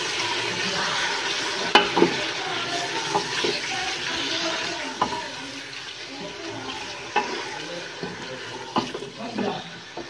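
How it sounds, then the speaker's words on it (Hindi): Chicken frying with browned onions in a pan, giving a dense, steady sizzle punctuated by clacks and scrapes of stirring throughout. "इसमें अपना चिकन ऐड कर देंगे और अच्छे तरीके से भूनेंगे।"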